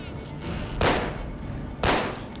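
Two sharp, loud pistol warning shots in The Walking Dead: Survival Instinct, spaced about a second apart over a low game background.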